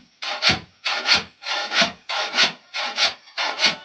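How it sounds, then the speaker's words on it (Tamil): A termite mound of hardened earth is broken apart with six steady, evenly spaced scraping, grinding strokes, close and alone, each rising and fading before the next. "நம்ம அந்த கரையாங்குச்சை நம்ம உடச்சி எடுத்துக்க போகிறோம்."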